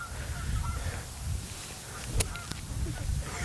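Geese honk out on a golf course, a series of rough, repeated honks at a moderate distance across a few seconds, with a sharp click or knock partway through and no talking.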